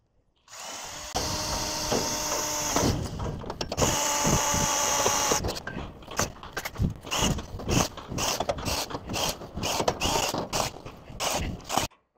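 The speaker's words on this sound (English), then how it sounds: "drill these rivets out, cut this section of bad hinge out" A power drill whines steadily for several seconds, then breaks into a series of short, choppy bursts as it drills out rivets on a damaged hinge of a carnival ride, close and loud.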